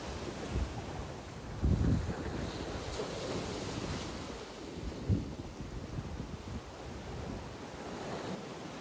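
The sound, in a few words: waves crashing against cliffs in Mallorca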